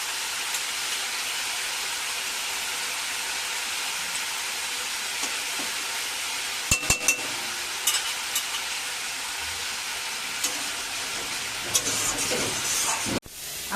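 Spice paste frying and being stirred in a pan for a potato curry with poppy seed paste, a steady close sizzling hiss running throughout with a few brief scraping knocks of the spoon.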